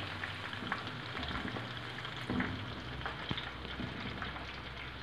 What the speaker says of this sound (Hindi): जी फ़िश तकरीबन फ्राई हो चुकी है।